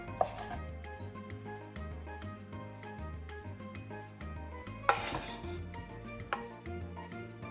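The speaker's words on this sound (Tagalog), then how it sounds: "Hiwain lang natin siya ng maliliit." A knife chops ingredients into small pieces for a baked sushi recipe: a quick, steady run of close, crisp taps on a cutting board, with a couple of louder knocks and no talking.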